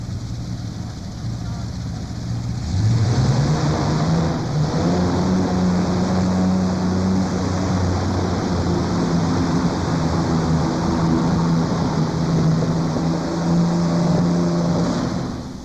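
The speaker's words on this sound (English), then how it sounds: "Familiar sounds of those Allison aircraft engines." A tractor-pulling tractor's loud, heavy Allison aircraft engine roars steadily and close, rising in pitch as it revs up, then holding a strong, continuous drone.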